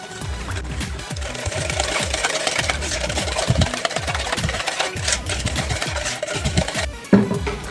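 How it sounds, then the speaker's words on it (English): Eggs whisked in a bowl for cornmeal cake batter, a fast steady rhythmic tapping and scraping that runs continuously up close, ending with a single louder knock, with no talking. "And whisk these up."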